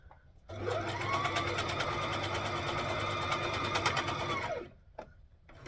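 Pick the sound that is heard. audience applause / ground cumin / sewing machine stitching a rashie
sewing machine stitching a rashie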